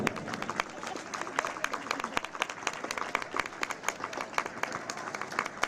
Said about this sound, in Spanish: Fuerte ese aplauso para Navarra,